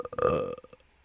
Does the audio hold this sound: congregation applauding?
no